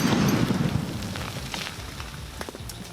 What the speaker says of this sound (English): Took a solid like 3 seconds for soda to stop raining from the sky